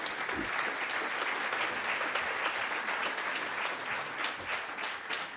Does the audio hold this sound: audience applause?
yes